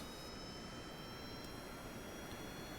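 An aircraft engine at full throttle in Kerbal Space Program, a steady loud jet roar with no breaks and no voices over it.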